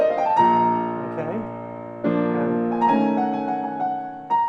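Solo piano plays the opening of Gershwin's Rhapsody in Blue, rich sustained chords and a rising run that ring out in a few phrases, with a brief spoken word at the end.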